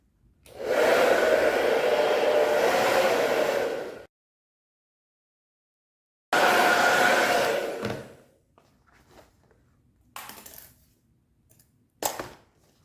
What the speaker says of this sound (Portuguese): Então eu vou aquecer novamente com o secador.